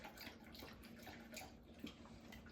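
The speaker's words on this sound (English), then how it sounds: "Ted drinking water ASMR" Ted, a pet dog, lapping water from a bowl indoors, giving soft, wet, steady splashing laps heard up close with no voices.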